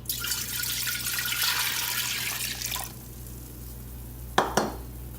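Apple cider vinegar and spices being dumped into a pot: a steady splashing pour runs for a few seconds, then stops, followed by two sharp clinks or taps near the end.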